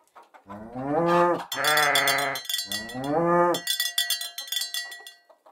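Sheep and goats bleat loudly in long wavering calls inside a barn, with clanking cowbells ringing between and after the cries, close and busy with animals on all sides.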